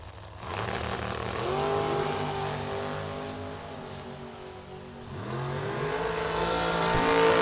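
Rear-engine dragsters run down a drag strip at a bracket race, a loud sustained engine roar that swells, dips with a gear change near the middle, then climbs again, heard from a distance without talk.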